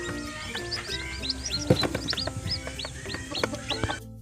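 Newly hatched chicks in a backyard incubator, peeping constantly in high, rising cheeps that overlap in a busy close chorus, with a few soft knocks underneath.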